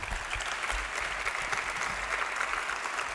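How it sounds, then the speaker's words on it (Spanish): A studio audience breaks into steady applause at an evening radio show, a dense, even wash of clapping hands that continues for several seconds without voices. "Nada más decir buenas noches, le aplaude el público."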